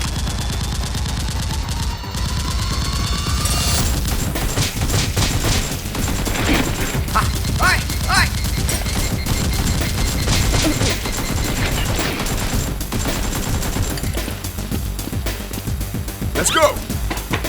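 Toy Nerf guns fire in a staged crime-fighting action short, producing dense, rapid bursts of gunfire-like shots and clatter that run continuously over a busy background, with voices shouting now and then.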